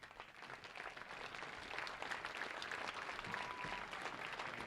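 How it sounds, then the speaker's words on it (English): A crowd at a high school football game gives a standing ovation, with sustained, dense applause and clapping spread across the stands, fairly distant and steady throughout. "crowd will give him a standing ovation"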